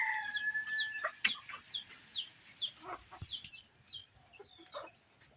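Several chickens cluck and chirp softly in a quiet yard, short scattered calls overlapping with faint background rustle.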